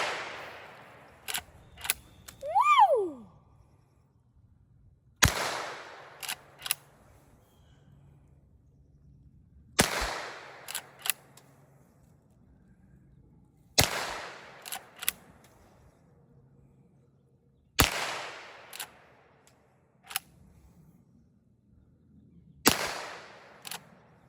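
A Henry rifle fired repeatedly outdoors, six sharp cracks spaced about four seconds apart, each followed by a brief metallic lever clack, with a short whoop early on.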